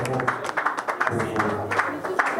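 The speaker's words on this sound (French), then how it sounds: "Est-ce qu'on peut applaudir pour la presse, s'il vous plaît?" Applause for the press at a press conference, steady clapping from a crowd at a close, even level, with some talk mixed in.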